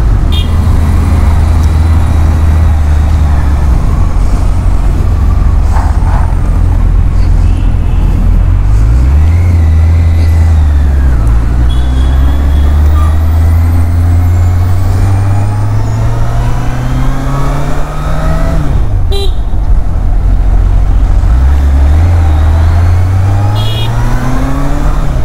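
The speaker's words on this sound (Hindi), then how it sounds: "मतलब रॉकेट जैसी आवाज़ आ रही है. अभी तो इसमें स्टॉक एग्जॉस्ट लगा हुआ है" Superbike with a stock exhaust roars loud and close while riding through city traffic, revving up and down through gear changes with rising and falling engine pitch.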